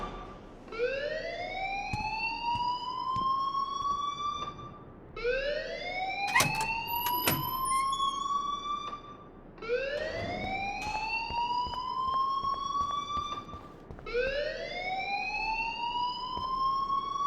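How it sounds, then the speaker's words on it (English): Alarm in the video game Life is Strange Remastered, a loud rising electronic wail repeating in four long sweeps about every four seconds, with brief clanks between cycles. "please turn off that alarm since that's your job."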